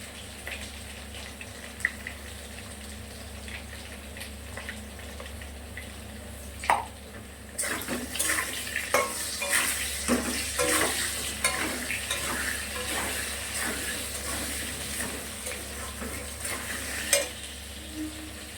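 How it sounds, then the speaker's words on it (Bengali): Potatoes fry in hot oil with whole cumin seeds, a steady sizzle that swells louder partway through, with occasional stirring clinks and scrapes from a utensil against the pan. "গোটা জিরে ফোড়নে দিয়ে আলুগুলো ভেজে তো নিলাম"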